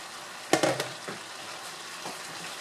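Okra dropped into a hot pan for shrimp and pork pinakbet, giving a sudden loud sizzle burst with a few crackling pops that settle into a quieter, steady frying hiss.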